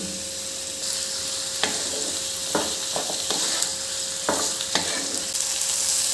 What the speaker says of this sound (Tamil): தக்காளி வதங்கிறதுக்கு கொஞ்சமாக உப்பு சேர்த்து வதக்கிக்கலாம்